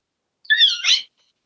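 A person whistles an imitation of a chickadee call, a single close, high warbling phrase lasting about half a second, alone with silence before and after.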